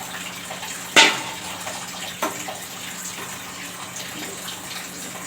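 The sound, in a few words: water being poured into egg curry pan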